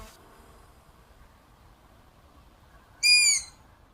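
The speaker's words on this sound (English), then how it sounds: "absolutely amazing to get this close to them" Owl in the UK countryside giving a single short, sharp call of about half a second, fairly close and loud against a quiet, low background hiss.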